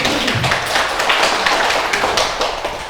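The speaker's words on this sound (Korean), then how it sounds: "박수 한번 치고 가겠습니다." An audience at a Buddhist monk's lecture claps hands together in a dense, steady burst of applause lasting a few seconds, fairly close and fading slightly at the end.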